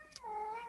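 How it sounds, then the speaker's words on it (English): A pet cat meows once near a door, a short, clear, rising-then-falling cry with a faint click just before it. "Let me open this door before the cat breaks it down."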